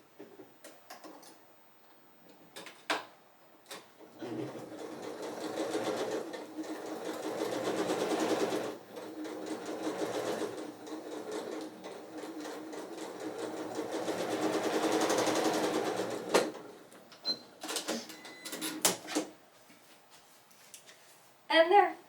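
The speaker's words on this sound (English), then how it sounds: "Line your seams up. Don't sew over your pins or your points." Sewing machine stitching the seams of a star-in-a-star quilt block, running in steady bursts for most of the stretch with short pauses, a close and even mechanical whir; a few clicks and handling sounds come before and after.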